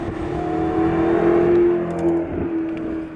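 A 2015 McLaren P1 supercar accelerates with a steady, loud engine drone, its pitch holding and rising slightly as it pulls on a road heading into the hills, with no talk over it.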